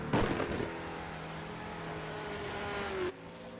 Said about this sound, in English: Did I just hear something backfire all of a sudden?